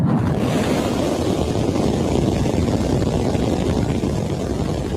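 A SpaceX Starship's rocket engines roar at ignition and liftoff, a loud, continuous, broadband rumble that stays steady and distant throughout.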